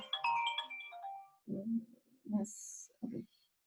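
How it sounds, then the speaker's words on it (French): A mobile phone ringtone goes off mid-conversation, a short bright tonal burst that cuts in between bursts of speech from a nearby talker. "j'ai mon téléphone qui sonne en même temps"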